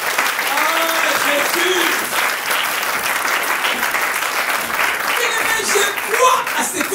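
A church congregation at an online worship service keeps up sustained, energetic applause for several seconds, with scattered voices and a brief exclamation rising over the clapping.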